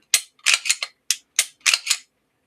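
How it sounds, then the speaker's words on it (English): A Glock 45 Gen 6 pistol's slide is racked repeatedly, giving about nine sharp, close metallic clacks in uneven pairs and singles with silence between, no talk. "The cycling on it is definitely stiffer."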